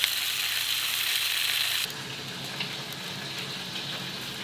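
Oil dripping off peri peri chicken onto a low-heat grill and sizzling into smoke, a steady bright hiss that drops to a softer crackle partway through, with no talking.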